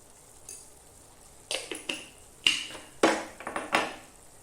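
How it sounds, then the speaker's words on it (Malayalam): Spices (turmeric and coriander powder) stirred in a pan for a koorka upperi stir-fry, a series of sharp scraping and clinking strokes of a spoon against the pan, close and fairly loud, with faint sizzling between them. "ഇത്രയും ചേർത്തിട്ട് നന്നായി ഇളക്കുക."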